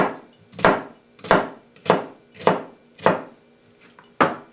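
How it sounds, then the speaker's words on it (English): A knife cuts through an onion on a board in six crisp, evenly spaced strikes, each a sharp close tap with a brief ringing tail, and no talk. "You're going to cut right across this way"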